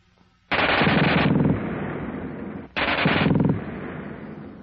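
A German Schmeisser submachine gun fires two long, very fast bursts, loud and close, with a short gap between them and a rattling tail as each burst trails off.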